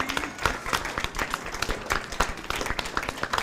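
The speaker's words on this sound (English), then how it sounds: "yes, you can give her a clap." Audience members at a school board meeting clap for an honored school psychologist, a moderate burst of quick, uneven handclaps from a modest crowd, fairly close and without speech.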